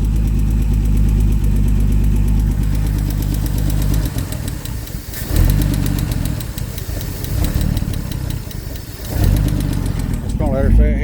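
A 1976 Ford F-150 engine idles loudly and close, with a rapid lifter tick and a rhythmic surging that rises and falls, while someone talks over it.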